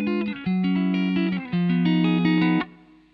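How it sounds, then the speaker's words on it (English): Guitar, apparently capo'd, plays short descending chord arpeggios from a song, a few sustained clean notes ringing over lower held tones before the sound stops abruptly, played alone. "Section C now is just the short sort of descending chord arpeggios that we've got."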